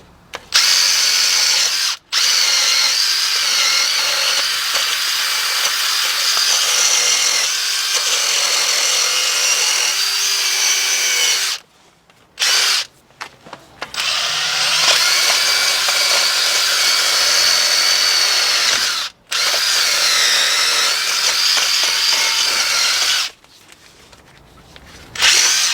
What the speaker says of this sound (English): you want to take your wire wheel and grind down